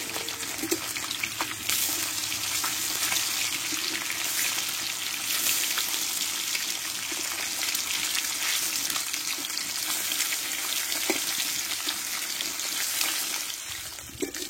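Steady, dense sizzling of katla fish frying in hot salted oil, continuous and close throughout, with occasional faint clinks and stirring.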